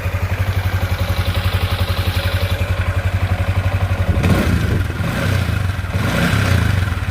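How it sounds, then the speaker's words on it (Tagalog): A Yamaha Sniper 155 VVA motorcycle engine idles close by with a rapid, even ticking clatter, then blips the throttle a few times near the end. "Ito yung alaga natin, Sniper 155. Ingay ng makina."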